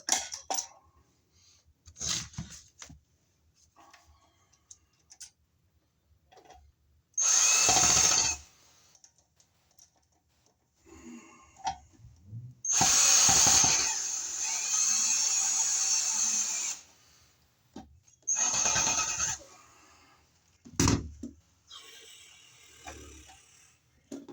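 Power drill driving screws into a Wiremold surface-mount outlet box during a kitchen outlet installation, several bursts of whirring motor of varying length with pauses, close and loud, and light tool handling noises between them.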